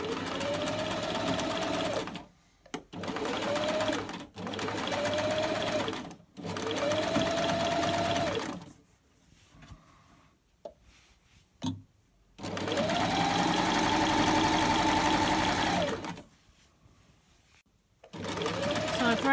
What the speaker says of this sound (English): sew it along the bottom to make the bottom of my bag